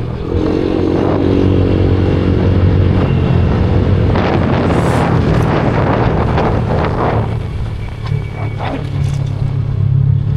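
Loud, steady wind buffeting the microphone with a low rumble throughout, and a faint engine hum underneath.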